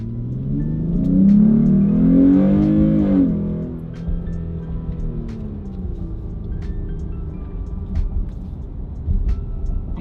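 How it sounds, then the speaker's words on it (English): A car accelerating hard from a standstill to 30 mph with sport mode off and the throttle floored: a loud engine roar rises for about three seconds, then drops to a steadier, quieter drone as the car keeps moving. "Sport mode is off, and we're just gonna go ahead and floor it."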